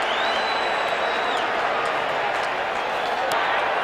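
A stadium crowd at an NFL football game between the Chicago Bears and San Francisco 49ers roars steadily after a penalty flag, a loud continuous wash of voices with a broadcast announcer talking over it.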